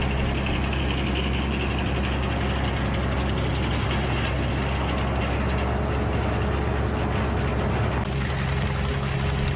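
Frick sawmill engine with dual carburetors runs steadily at close range, a loud continuous low rumble with no breaks or voices over the whole stretch.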